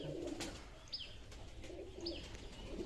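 Soft pigeon coos repeat twice at an unhurried pace against quiet background noise, with no talking.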